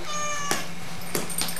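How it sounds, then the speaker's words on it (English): A house cat meows loudly and close by, one drawn-out cry followed by two shorter calls, while waiting to be fed at home. "Cat."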